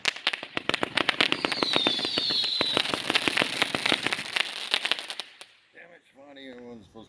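Brothers Vivid FX fireworks crackle in a dense, rapid burst of sharp pops and sizzling, loud and close for about five seconds, then fade as people talk.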